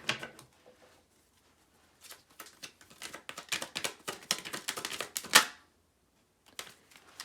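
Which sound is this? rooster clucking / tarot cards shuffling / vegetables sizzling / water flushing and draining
tarot cards shuffling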